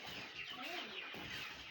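Chickens cluck inside a poultry house, several birds making soft, overlapping clucks and murmurs at moderate distance against a low background hum.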